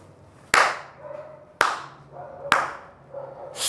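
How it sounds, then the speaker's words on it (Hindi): Hands clap in three sharp, loud, close claps spaced about a second apart, each ringing briefly in a room, with a fourth starting at the very end. "ये जो ताली बजाते हैं"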